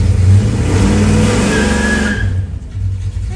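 A Plymouth Cuda engine revs hard against the foot brake during a converter stall test, a loud, steady high-revving roar that holds for about two seconds, then drops back toward idle.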